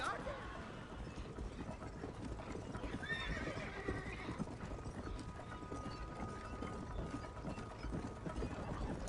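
Horses in the Red Dead Redemption video game: a steady clip-clop of hooves with a neigh partway through, set under continuous game ambience and faint voices.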